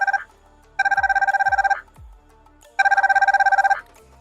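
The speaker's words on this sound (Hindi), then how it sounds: "तो 3 से 4 दफ़ा बीप हो रही है" A KW39 Max smart watch in find-device mode sounds two loud bursts of rapid, evenly pulsed electronic beeps, each about a second long, separated by a short pause with faint clicks between them.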